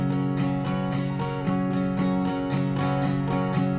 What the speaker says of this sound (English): you can just do those down up strums on that D.